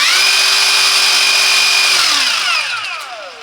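A Parkside 20V Performance cordless impact wrench, PPDSSA 20 Li A1, runs free at a steady high whine. The motor then winds down and the pitch falls as it slows to a stop.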